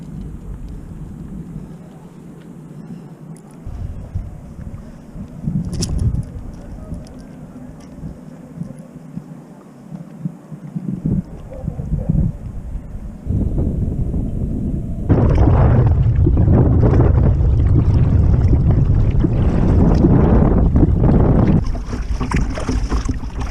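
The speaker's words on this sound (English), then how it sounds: "It was windy all the time, struggling against the wind." Strong wind buffets a kayak on open water during a fishing trip, a rough low roar that swells much louder and more constant partway through.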